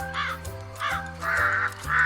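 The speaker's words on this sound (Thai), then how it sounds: "ฉันคือกา" Crow caws repeat four times in a steady rhythm, loud and close, over a sustained musical backing.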